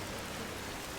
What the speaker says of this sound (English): So we're just going to enjoy the rain for a second.